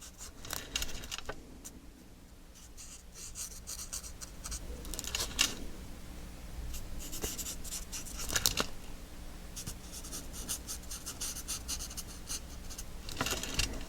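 Pens draw on paper while working on a mixed media photo folio, with soft continuous scratching and scribbling strokes and occasional sharper rustles of paper, close and quiet, with no talk.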